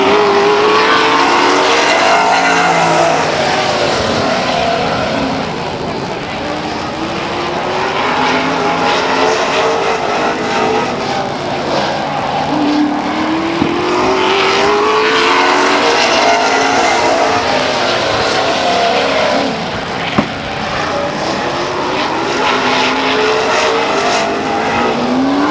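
Race cars roar around the oval at Stockton 99 Speedway in 2002, a loud, continuous wall of engine noise with whining pitch sweeps as cars pass close by, no talking over it.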